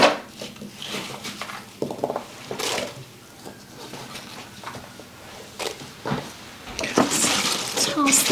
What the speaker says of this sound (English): add all of my vegetables in my slow cooker and give them a toss